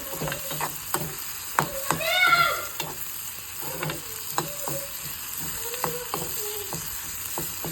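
A tempering of spices for Andhra-style tomato dal sizzles and crackles in a pan, with sharp metallic stirring clinks and scrapes repeating over a steady frying hiss, close by.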